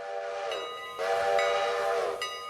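A train in the Railroader video game giving off a sustained, loud, tonal whistle or horn blast that swells in the middle and fades, with no speech.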